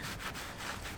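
A rag soaked in 70% isopropyl alcohol rubs over a sanded panel of a classic car under rust repair, producing soft, close scrubbing strokes in a quick back-and-forth rhythm.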